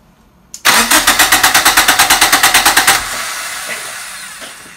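A car engine with no fuel in it cranks on its starter in a fast, even run of about twenty chugging pulses, then stops without catching, leaving a quiet hum.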